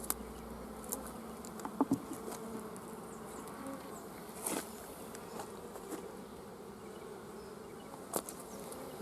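Honeybees on the comb of a hive, a steady close buzzing swarm with occasional soft clicks and knocks.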